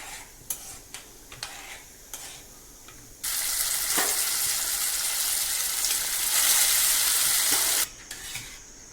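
A few light stirring clicks, then rice hits hot oil with cumin seeds and a loud, dense sizzle rushes up and holds for several seconds before cutting back to quieter pan sounds.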